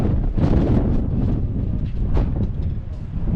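Strong wind buffets the microphone outdoors, a loud continuous roar with gusty swells throughout.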